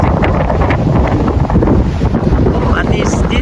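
Strong typhoon wind in Hong Kong roars and buffets the microphone in a constant dense rush, loud and close throughout, with a faint voice barely showing under it.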